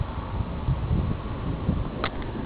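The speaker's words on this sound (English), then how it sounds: "the wind's pretty strong right now" Strong wind roars steadily during a summer storm at night, with low gusty buffeting, a constant broad rush and a brief rattling knock near the end, no voices present.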